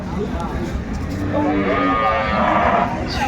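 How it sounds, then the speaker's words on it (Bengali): A cow lets out a long, low moo that rises and swells, close by, with faint background voices underneath at a cattle market. "বেশ সুন্দর গাভী বাছুর কালেকশন করছে বেলাল ভাই"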